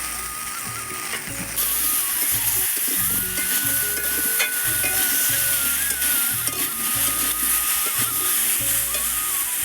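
Potatoes and chopped tomato with green chilli paste and Kashmiri chilli powder sautéing in a pan, a steady loud sizzle with repeated scraping and clatter of a stirring spoon throughout.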